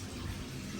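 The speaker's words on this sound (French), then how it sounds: "Ouais, c'est de l'eau." Water runs for a shower in a steady, close rushing stream, constant throughout the brief moment with no voices.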